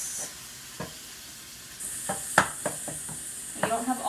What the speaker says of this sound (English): we're going to cook this until it's no longer pink anywhere in the pan. So just keep moving it around every few minutes